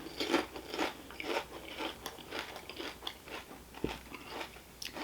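Crisp, close crunching and chewing of Lays Chile Mango potato chips, repeated bites in an irregular rhythm, fairly quiet and without talk.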